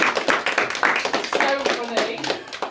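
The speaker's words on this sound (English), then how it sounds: "Give yourself a round of applause." A round of applause at a workplace team gathering: a burst of scattered hand claps mixed under loud overlapping voices and cheering, carrying on for a few seconds.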